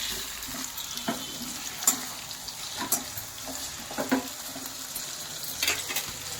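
Salted food frying in a pan while chapatis and soya-chunk curry are being cooked, a steady low sizzle with scattered scraping and stirring clicks.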